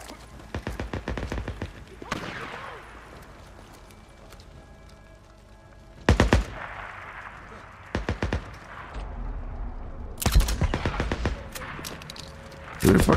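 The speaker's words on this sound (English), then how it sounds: "Who the fuck are they shooting at?" Bursts of gunfire in the zombie game Days Gone, rapid volleys crackling in several loud clusters with quieter gaps between, while someone talks over the shooting.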